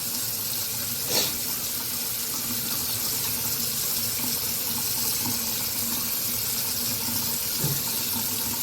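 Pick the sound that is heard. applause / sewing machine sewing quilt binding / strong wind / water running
water running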